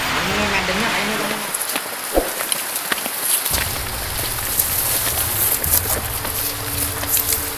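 Steady rain falls across rough outdoor terrain near Batu Hajat in Indonesia, a dense hiss of drops on surfaces running throughout, with faint voices and a low rumble underneath at times.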